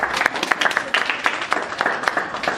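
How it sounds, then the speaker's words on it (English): An audience at a charity event applauds an organisation, producing moderately loud, fairly sparse clapping with distinct individual claps standing out in an uneven rhythm. "Let's give them a round of applause."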